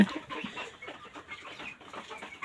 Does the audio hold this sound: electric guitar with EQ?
no